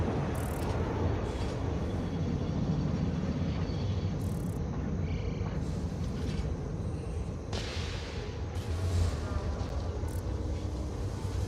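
A train rumbles past in the factory game Satisfactory, a continuous low, heavy roar holding steady throughout with faint higher clanks on top.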